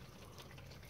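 Transmission fluid drains and splashes from a leaking automatic transmission, a faint, steady trickle and patter of liquid heard briefly on its own.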